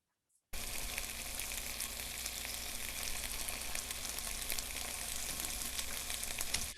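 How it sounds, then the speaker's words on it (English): Salmon sizzling in a hot pan on a stove, a steady, close, dense crackle that starts abruptly after a brief silence and continues evenly without talk. "I just held the Zoom recorder over the sizzling salmon sound."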